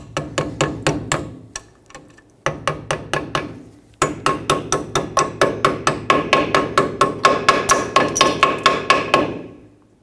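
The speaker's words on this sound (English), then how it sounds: "Now, put this new shim on," A new parking brake shim on a 2009–2011 Ford F-150 is tapped into place with a hammer in quick, sharp metallic taps, close and loud, coming in three bursts with brief pauses and speeding up toward the end.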